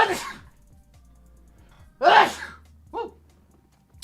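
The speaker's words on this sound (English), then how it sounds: "Uh-oh, I'm going to sneeze." A single sharp sneeze rings out between quieter breathy sounds, close and abrupt, followed by a brief softer exhale.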